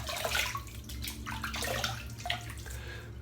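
Water splashes and runs at a sink as hands wet the face before a shave, a steady wash of splashing and trickling with brief louder slaps, close and continuous.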